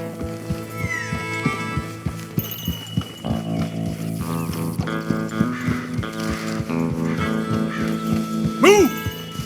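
Horses galloping in the video game Red Dead Redemption 2, with rhythmic hoofbeats under layered game music and ambience, plus horse whinnies and snorts near the end.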